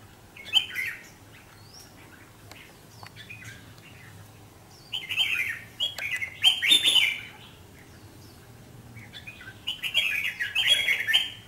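A red-whiskered bulbul sings outdoors in short bright chirping phrases, repeated in several bursts separated by quiet gaps over a faint low background hum.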